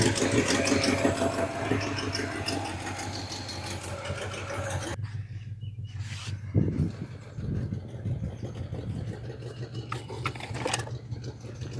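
A 1967 Chevy C20 pickup truck engine, revived after 12 years unused, runs steadily at idle, a continuous low rumble with a rapid mechanical ticking, changing character partway through.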